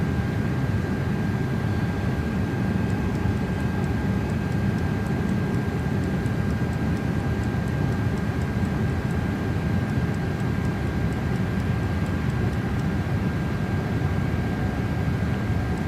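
Steady, loud cockpit drone of an airliner on approach to runway 13 in a flight simulator game, a constant broadband engine and wind roar with a faint tone, uninterrupted throughout.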